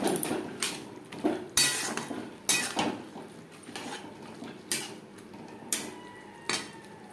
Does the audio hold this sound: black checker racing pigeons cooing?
no